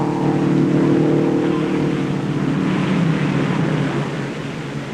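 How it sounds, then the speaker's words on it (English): Race cars of the 1958 Indianapolis 500 roar down the straightaway with a loud, sustained engine drone and crowd noise, continuous throughout with no talk. "Here comes Bryan down the straightaway for the checkered flag"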